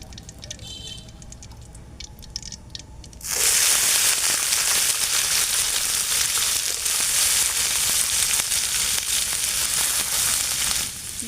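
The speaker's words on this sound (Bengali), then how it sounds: "তো তেল গরম হয়ে গেছে, আমি উস্তাটা ছেড়ে দিই এর উপরে।" Bitter gourd dropped into hot oil with whole cumin seeds in a simple village kitchen, a quiet lead-in suddenly bursting into a loud, steady, close sizzle that holds strong to the end.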